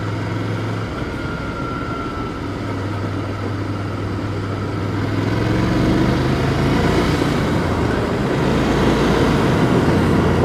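A Ducati Scrambler 800 Icon motorcycle being ridden, its exhaust a fairly subdued, steady drone under wind rush that builds louder in the second half.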